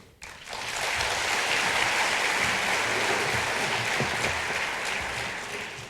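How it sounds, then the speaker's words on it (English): A large audience at a lecture on Asia's future claps steadily, a dense sustained round of applause that swells quickly after a brief quiet start and holds for several seconds before easing slightly. "asking you to join me in a special round of applause"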